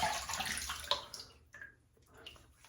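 A razor rinsed under a running tap, water splashing and gushing briefly up close, then tapering to softer trickles and a few drips.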